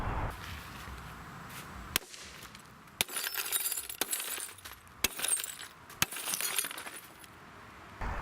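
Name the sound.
glass with 8 mil security film shattering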